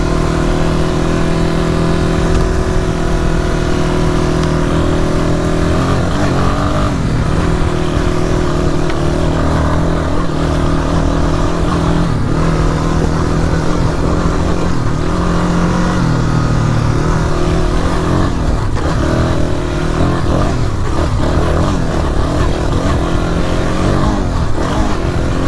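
A Yamaha Warrior ATV engine drones loud and close throughout while riding tight trails, its revs rising and dipping with shifts and throttle changes in a continuous, unbroken roar.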